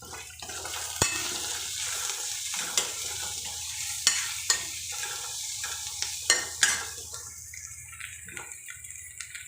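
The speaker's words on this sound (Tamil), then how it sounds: "இப்போ வெங்காயம் நல்லா கோல்டன் ப்ரௌன் கலரில் வதங்கிடுச்சு" Onions sautéing golden brown for crab gravy sizzle steadily in the pan, broken by occasional sharp utensil clicks and scrapes, before the frying sound thins out near the end.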